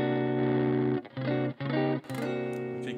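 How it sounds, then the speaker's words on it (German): An electric guitar plays through a Hughes & Kettner Tubemeister 5 amp, gain channel with the guitar volume rolled back for a cleaner tone: a few ringing chords, each cut short by brief gaps, with no voices. "Ich kriege immer noch einen ziemlich brauchbaren Clean Sound"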